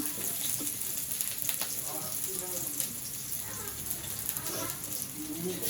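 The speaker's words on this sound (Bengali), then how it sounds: "আগে বেগুনটাকে হালকা করে ভেজে নিন" Eggplant frying in oil, a continuous dense sizzle and crackle under someone talking nearby.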